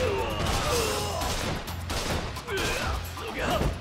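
Gunfire from a gun in Yakuza Kiwami, a dense stretch of rapid shots and crashing impacts filling the busy game mix for nearly four seconds.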